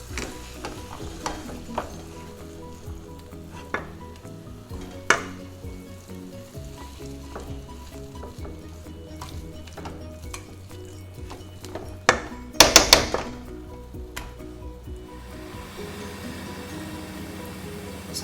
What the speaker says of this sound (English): I'm going to add my 6 boiled potatoes and I'm going to crush them with our pav bhaji masher